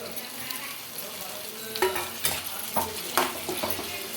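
Tomato pieces hit hot oil with ginger garlic paste for a dried fish egg curry, giving a soft steady sizzle with a few sharper scraping stirs in the latter half, close and fairly quiet.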